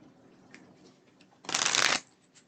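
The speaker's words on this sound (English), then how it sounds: "Let's do one more shuffle here." A deck of tarot cards is shuffled in one quick, crisp riffle burst lasting about half a second, preceded by faint handling rustles in a quiet room.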